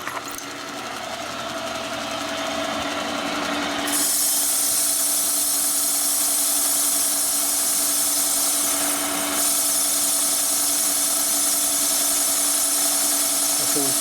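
Boring machine cutting a Harley M8 big bore cylinder at high speed, a constant loud whirring drone with a steady tone that steps up in intensity partway through and runs without pause.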